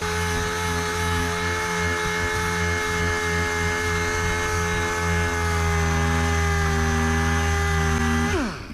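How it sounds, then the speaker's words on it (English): Power sander grinding flaking old paint off the body of a 1959 Dodge Coronet, a loud steady motor whine with dense harmonics running continuously up close, then spinning down sharply at the very end. "You can see there where it tries to kind of flake off as you're sanding it."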